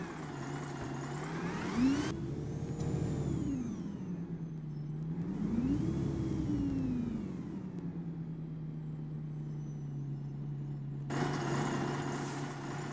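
A Volvo Olympian bus in the OMSI 2 driving simulator runs on Route 12, its engine droning steadily and swelling up and down through gear changes before settling into a constant hum.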